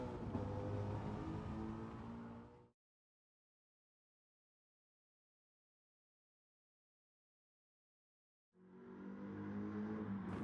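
A modified, untuned 2016 Ford Shelby GT350R Mustang in Gran Turismo 7 roars loudly in two bursts, a couple of seconds at the start and again near the end, with total silence in between.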